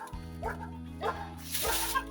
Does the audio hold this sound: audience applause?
no